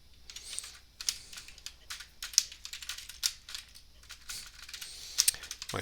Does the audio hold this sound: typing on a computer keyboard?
yes